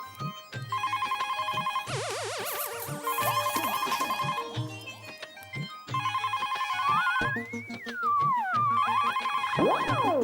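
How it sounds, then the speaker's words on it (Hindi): A telephone rings at home with a repeated electronic ringtone in a bright melodic pattern, looping several times with swooping tones and gaps between rings. "मम्मी फोन बज रहा है"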